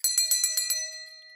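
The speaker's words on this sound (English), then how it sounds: "how did I almost forget about the bell?" Six quick rings from a small bicycle-style bell, bright and close, in a rapid burst that leaves a shimmering tone fading out over the last half second.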